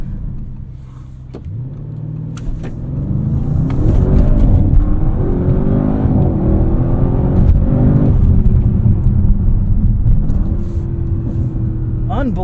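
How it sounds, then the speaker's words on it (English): A 2024 Audi RS7's 4-liter V8 pulls hard from a launch, a loud steady roar climbing through rising gear tones with a brief dip at a shift, heard from inside the car. "I'm not sure if that was launch control or just a boosted launch."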